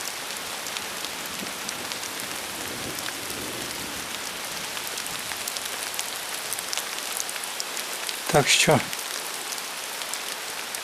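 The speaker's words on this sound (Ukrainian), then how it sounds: "поки дощ перестає вже, стає менший і менший. І зовсім затихла гроза," Steady rain from a fading thunderstorm falls on a surface with a constant hiss and patter; a voice speaks briefly near the end.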